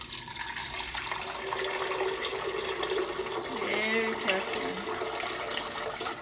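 Homemade Russian kompot is poured through a strainer into a pitcher, a steady close splashing stream with a short spoken remark.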